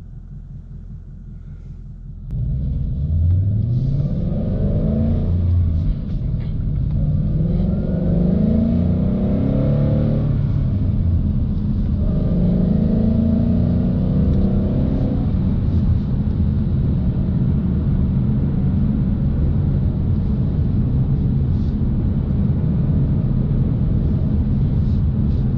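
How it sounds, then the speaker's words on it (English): Steady road and tire roar inside a 2018 Mustang GT cruising in sixth gear, its Corsa active exhaust set to quiet mode; a low, continuous rumble with faint engine tones, no voices. "So right now I'm in 6th gear on quiet mode, and the only thing you can honestly hear is the noise from the tires."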